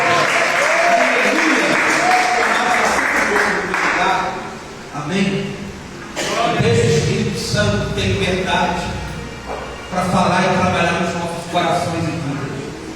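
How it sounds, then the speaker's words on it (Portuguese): A church congregation applauds during a service, with bursts of clapping mixed with loud overlapping speech and shouting. "Você pode aplaudir o Rei da Glória"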